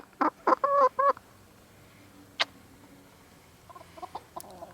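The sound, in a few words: chicken clucking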